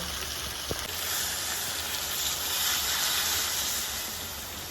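Cold water poured into a simmering curry of red amaranth, stems and potato in a hot pan: a brief knock, then a rising, steady steam hiss that swells and gently fades.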